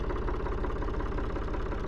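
A 1965 Ford 3000 tractor's diesel engine idles steadily nearby, a loud, even, throbbing rumble with no talk over it.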